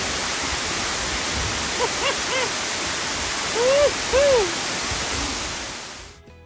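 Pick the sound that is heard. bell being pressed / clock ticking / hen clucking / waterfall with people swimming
waterfall with people swimming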